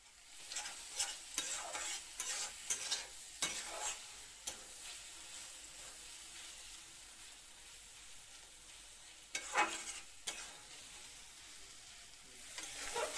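Prawns being stirred with ground spices and garam masala in a hot pan for chingri macher chorchori, sizzling steadily with repeated sharp scraping strokes and clatters, loudest at the start and again near the end, with no talking.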